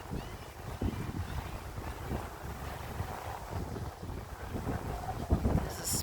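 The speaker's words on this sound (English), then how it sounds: "There's a speedboat" A speedboat passes out on open water, a steady low engine drone under heavy wind buffeting on the microphone and the wash of small waves, with no one speaking.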